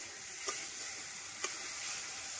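Ground tomato paste added to a spice mix frying in a pan for katla kalia, a steady moderate sizzle and hiss with two faint ticks.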